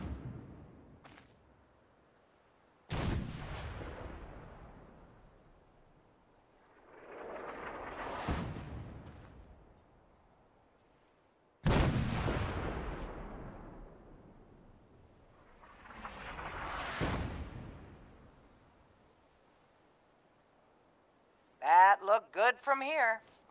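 Artillery fire in the video game Fallout 4: four or five heavy, distant booms come at uneven intervals, each rumbling out slowly before the next. A short burst of electronic noise closes the sequence.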